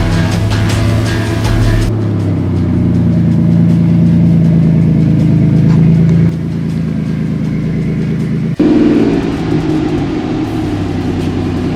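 A lifted 1998 Toyota Tacoma built for rock climbing runs its engine with a steady mid-pitched rumble, surging louder in the first seconds, then settling into a continuous drone that dips briefly and resumes near the end.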